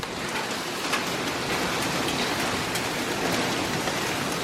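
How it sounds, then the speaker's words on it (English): Heavy rain pours steadily in Arizona, a dense, even hiss of drops drumming on surfaces close by, loud and unbroken throughout with no voices. "whenever it rains like this, it's always like phenomenal"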